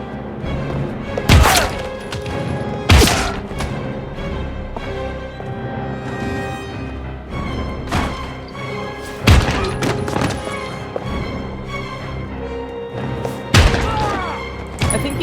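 Bodies hitting the floor during a shootout in the video game Heavy Rain: several heavy thuds and impacts land at irregular intervals over a dense, busy game soundtrack.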